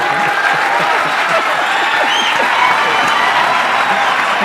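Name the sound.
audience applause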